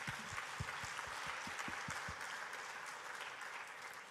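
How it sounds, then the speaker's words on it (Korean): A church congregation applauds the Lord during a bilingual Korean and Filipino afternoon worship service, dense steady clapping filling the room for about four seconds with a few sharper claps standing out near the start. "박수 쳐주세요."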